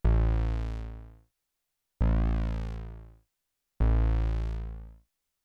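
Arturia MiniBrute 2 analog synthesizer set to trig envelope mode: three identical bright, buzzy bass notes, each sounding about a second with a sweeping filter and fading out, separated by brief silences.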